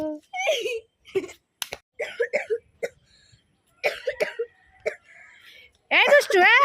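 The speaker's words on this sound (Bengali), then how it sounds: "তোর তো খুব কাশি হয়েছে" A child coughs in several short, sharp bursts, broken up by whimpering and vocal sounds from the child, with a high wail near the end.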